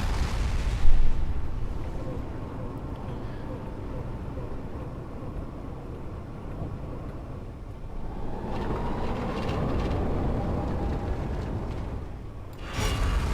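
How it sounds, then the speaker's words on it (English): A massive cannon shot obliterating a ship in Space Engineers, a loud blast near the start that gives way to a long rolling rumble and debris roar, then another sharp burst at the end. "That one shot just completely took out the ship entirely."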